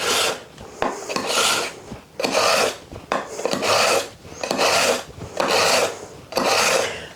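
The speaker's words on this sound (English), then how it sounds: "But first we need to sharpen our knife." A kitchen knife is drawn across a sharpener in a home kitchen, giving repeated rasping strokes in a steady back-and-forth rhythm of about eight passes, close and fairly loud with no talk.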